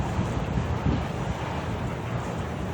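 Strong wind buffets the microphone on an exposed stretch of the Pacific Crest Trail, a loud, steady roaring rush with gusty low rumbles and no talking.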